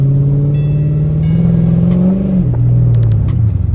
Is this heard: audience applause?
no